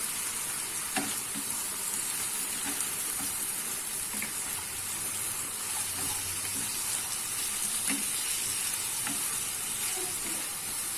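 Chicken frying in a pan with a spoonful of soy sauce added, a loud, continuous sizzle with regular scrapes and clicks of stirring throughout.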